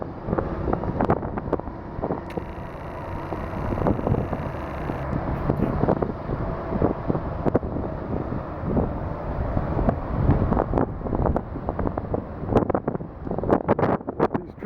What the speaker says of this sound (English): It's quite windy, hard to stand sometimes.